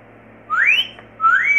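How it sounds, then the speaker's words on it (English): Two loud rising wolf whistles in quick succession, each a bright upward-sweeping tone lasting under half a second, close and alone. "Give a big, big woof whistle."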